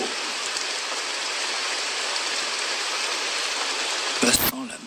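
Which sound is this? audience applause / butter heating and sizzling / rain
rain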